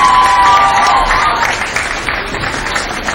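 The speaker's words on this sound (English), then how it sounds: "I want you to give them a big round of applause." Audience applause and some cheering at the 2003 Herbsfest Queens pageant in Huntingburg, a steady crowd clapping that stays fairly loud, with a brief high tone near the start, then tapers slightly.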